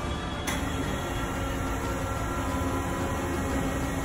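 A hydraulic honing machine cutting a sleeve starts up abruptly and settles into a steady mechanical hum with thin, sustained high-pitched whining tones, loud and continuous for a few seconds.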